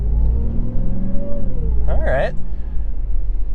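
Supercharged Dodge Hellcat engine with a low steady idle rumble, then a brief sharp revving burst carrying a rising supercharger whine around the middle, close and loud, with a short spoken word early on.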